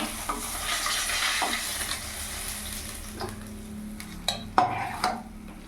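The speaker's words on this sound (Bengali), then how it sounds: "আর বাদ বাকি মাছগুলো ছেড়ে দেবো" Bata fish frying in hot oil give a soft continuous sizzle, followed by a few sharp metallic clinks and scrapes of a spatula against the pan toward the end.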